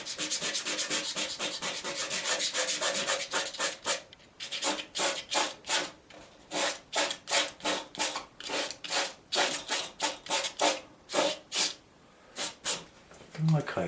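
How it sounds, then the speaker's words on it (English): Wood is sanded by hand with very coarse belt-sanding paper, first a steady continuous scratching, then loud, close, rhythmic back-and-forth strokes. "I was going to do some sandpaper, wasn't I?"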